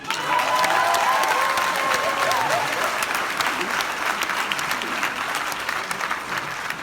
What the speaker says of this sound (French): Applaudissez ma petite.